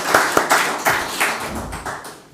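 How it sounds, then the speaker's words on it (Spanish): Audience applauding a speaker at the end of a tax seminar, a short burst of scattered hand claps from a few people nearby that fades quickly, with no talking. "Pues vamos a aplaudirle"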